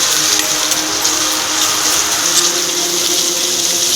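Water runs steadily into a bowl of cheese paratha dough, a close, continuous gushing pour that keeps an even level from start to finish with no voices over it.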